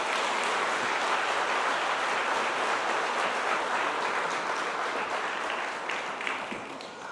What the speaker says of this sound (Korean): 다시 한번 박수 한번 해드리세요